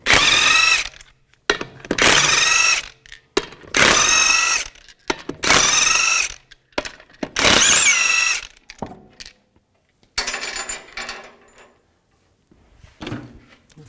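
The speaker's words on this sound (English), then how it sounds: "use a 22mm socket, take the lug nuts off" A power tool with a 22mm socket zips lug nuts off a 2010-2017 Chevrolet Equinox wheel in five loud, close bursts of whirring rattle, separated by short pauses and followed by quieter clinks and handling noise.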